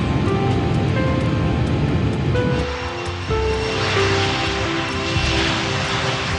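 BAC 111 jet airliner engines roar steadily and loudly at close range, a broad sustained rush with a shifting tone partway through and no voices over it.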